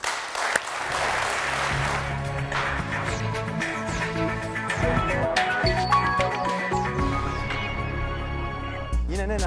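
Studio audience applause on the Turkish word game show Kelime Oyunu, crisp claps running beneath a prominent musical jingle that carries through the whole stretch.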